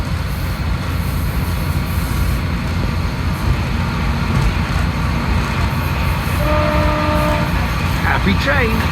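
A train rumbles along the line at Dawlish Warren, a steady near rolling roar with a short horn blast toward the end, and a voice speaking over it.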